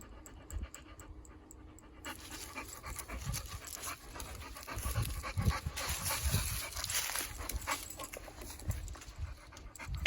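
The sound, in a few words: pit bull dog panting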